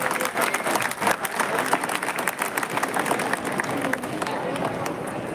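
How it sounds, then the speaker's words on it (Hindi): Parents in a school audience give loud, sustained applause for a children's skit at a boys' school event, dense rapid clapping with crowd murmur throughout. "जोरदार तालियां बजा दें।"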